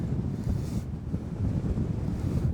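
Strong wind buffeting the microphone on a metal roof with a low, gusty roar, steady throughout and no voices.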